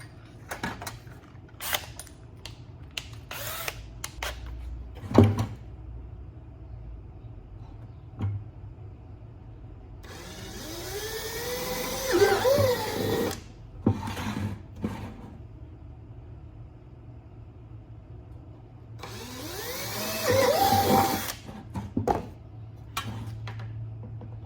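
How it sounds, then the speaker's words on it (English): Power drill boring holes for a homemade revolving-door rat trap, two long whirring bursts separated by quiet stretches, with scattered clicks and handling knocks between them. "Alright, we got the holes drilled."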